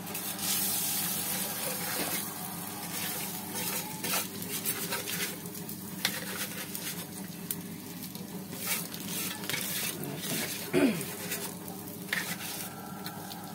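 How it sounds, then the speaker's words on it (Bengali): Spice-coated rice for pulao sizzles and crackles in a hot pan while it is stirred and scraped, a steady close-up frying sound throughout. "এবার এইটাকে ভালো করে ভাজা ভাজা করে নেবো"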